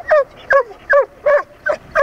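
A Doberman barks persistently, five sharp, evenly spaced barks with a slightly whining, yelping edge, close and loud with quiet gaps between them.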